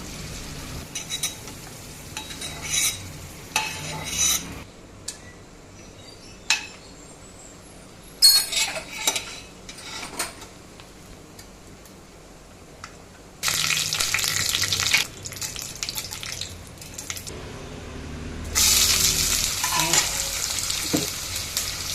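Potatoes frying in oil until golden brown for a home crab-curry lunch, crackling sizzle with stirring and occasional clinks, swelling into loud, dense bursts of spitting oil in the later half, no voices.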